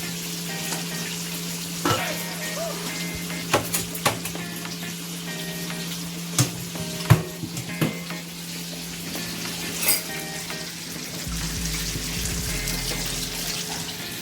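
Jerk chicken pieces frying in a pan of hot oil give a steady sizzle, with scattered clinks and knocks from handling and a brief water-like rush near the end; no one speaks.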